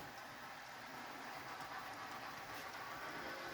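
A model train rolls steadily along its track with a continuous rumbling whir and faint clicking, close by and fairly loud, with no talking.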